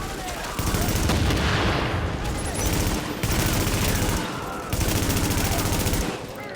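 Sustained automatic weapon fire in The Division, loud bursts of rapid shots with brief pauses between them, dense and close throughout.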